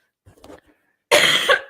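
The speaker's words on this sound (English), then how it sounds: "everybody's Excuse me. coughing suddenly." A single loud, close cough bursts out near the end of a live parenting podcast, after a few faint murmurs in near silence.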